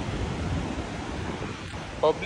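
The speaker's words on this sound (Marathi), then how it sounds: "हा आपला असा बीच आहे." Surf rolls steadily onto a beach at Alibag on a Sunday, with a continuous wash of breaking waves and some wind buffeting the microphone, plus a brief louder burst near the end.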